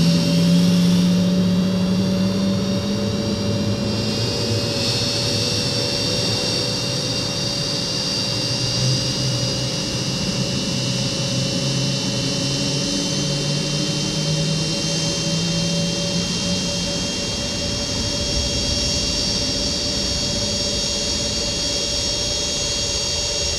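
A Cessna CitationJet 525 jet engine spins up during start in the X-Plane 12 flight simulator: a loud, steady turbine roar with a rising whine that holds throughout, close and with no talk.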